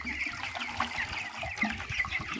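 Chickens cluck and murmur softly while being given water, a busy low-level flock chatter from several birds, fairly faint and with no voices.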